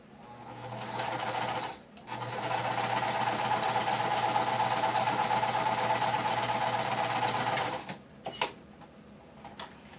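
A Phoenix PMQ sewing machine stitches in a steady, fast mechanical whir for several seconds, pauses briefly, runs again, then stops with a few clicks and handling knocks at the end.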